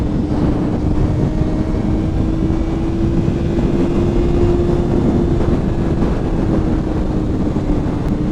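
A motorcycle ridden through Melbourne, a loud, constant roar of engine drone mixed with rushing wind buffeting the microphone, steady and unbroken, with no voices.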